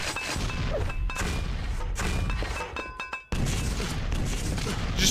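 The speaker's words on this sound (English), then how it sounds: "Just throw more grenade up there." Repeated heavy thuds and booms from grenades going off in a video game, one blast after another over a steady rumbling bed, with a sudden cutoff near the end.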